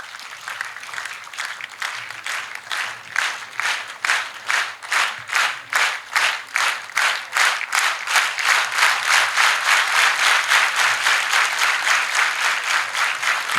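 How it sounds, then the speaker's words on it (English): A group performs a unison corporate clap, with many hands striking together in regular, evenly spaced beats that grow louder and come faster until they blur into continuous applause. "Everybody will do now corporate clap."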